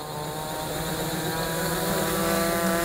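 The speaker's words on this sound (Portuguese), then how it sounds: "Então vou armar o drone, vou decolar em" Pixhawk ArduCopter drone arming and lifting off, its propellers spinning up into a loud, steady whine and buzz that swells slightly as it rises, close by and with no talking.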